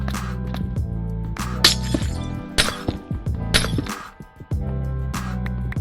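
Tinted glass blocks shattering in Minecraft, several sharp breaking crashes at irregular intervals over a steady musical background, loud and close with no talk.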